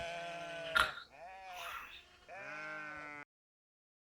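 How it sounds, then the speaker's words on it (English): A sheep bleats in a grazing flock, giving a few close, wavering calls with a strong tremolo, one after another, before falling silent. "a shepherd named Tillinoff watched his sheep graze"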